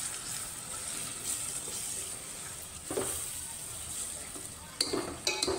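Onion and tomato paste being stirred and sautéed in a pan for misal, a steady soft sizzle with scraping stirs and a few clinks of the spoon toward the end.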